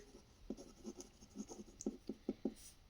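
Pen or pencil scratching across paper while a trigonometry solution is written out, a run of short close strokes in uneven rhythm, quiet and alone with no talk.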